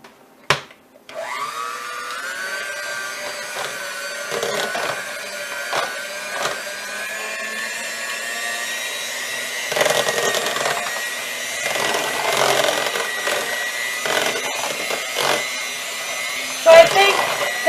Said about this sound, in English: Now I'm switching back to my hand mixer.